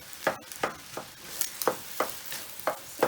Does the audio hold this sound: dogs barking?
no